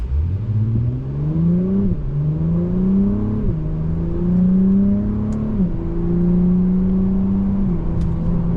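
A 2025 Acura TLX Type S in Sport Plus pulls away hard, its engine rising steadily, then dropping at each crisp upshift of the 10-speed automatic, loud and continuous over roughly four gear changes.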